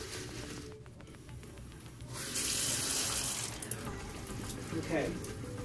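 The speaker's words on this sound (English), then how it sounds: "get a paper towel to turn the water on because your gloves are dirty" Tap water runs into a sink in a care setting after the faucet is opened with a paper towel, a steady broadband rush that starts midway and continues under faint background noise.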